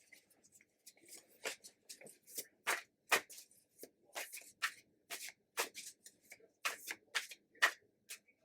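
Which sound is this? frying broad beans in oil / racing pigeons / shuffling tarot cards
shuffling tarot cards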